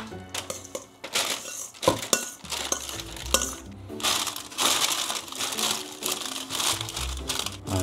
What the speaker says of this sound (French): papier sulfurisé.